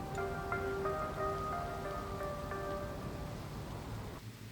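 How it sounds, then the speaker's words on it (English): Steady rain pouring down at a race track, a dense continuous hiss of drops close by with faint tonal hums from the surroundings, ending in a brief drop near the end. "The rain continues to fall."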